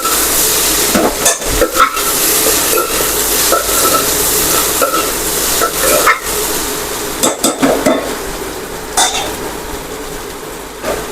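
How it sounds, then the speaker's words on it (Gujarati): Okra frying in a pan with red chutney, stirred now and then, gives a steady close sizzle broken by repeated scraping stirs of a utensil against the pan. "જો ભીંડાને આપણે વચવચમાં હલાવતા રહીશું."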